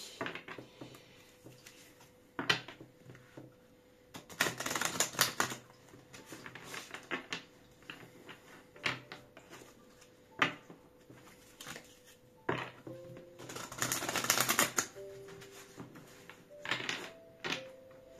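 A deck of cards shuffled again during a card reading makes quiet, intermittent bursts of riffling and shuffling, with soft taps between them.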